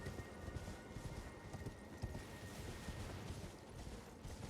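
Horse hooves clip-clop in the video game Elden Ring, a faint, busy patter of soft steps under a low ambient drone, with no one talking.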